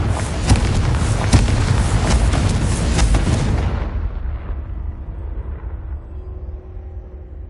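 Confringo spell explosions in Hogwarts Legacy go off as a heavy series of loud blasts and deep rumbles for nearly four seconds. The rumble then fades into a low, quiet hum, with no talking.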